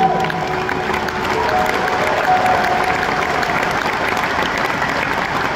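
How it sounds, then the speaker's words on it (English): A large arena audience at a concert in the Ziggo Dome claps and cheers steadily, a dense continuous wash of hands with a faint sustained tone beneath. "clap your hands"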